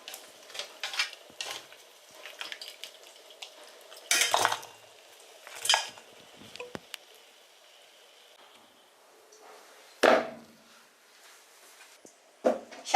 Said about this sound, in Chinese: 焯好水的排骨捞出来